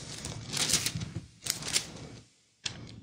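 Rapid clicking keystrokes on a computer keyboard, typed in quick bursts with brief pauses, fairly close and clear, with no talking.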